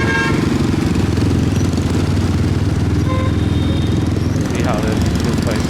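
A Honda HRC edition motorcycle engine runs nearby on a city street in Saigon, a loud continuous rumble with traffic around it and a person talking over it.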